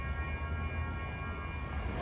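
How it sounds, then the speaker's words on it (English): A Caltrain passenger train from San Jose to San Francisco approaches with a low, steady rail rumble and faint sustained horn-like tones, fairly quiet and heard alone. "here comes train 407, San Jose to San Francisco at 9:13"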